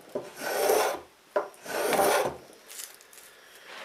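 A rasp or file carves the corner off a wooden guitar neck by hand in two long, close, coarse scraping strokes, then lighter rubbing, with no talking.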